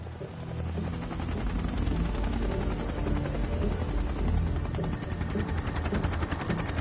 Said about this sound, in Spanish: a ver cómo lo transportan los helicópteros